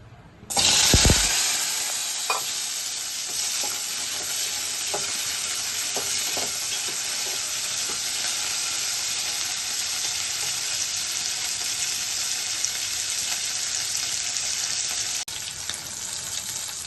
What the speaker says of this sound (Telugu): ఆయిల్ వీట్ అయింది, పచ్చిమిర్చి వేసుకుందాం.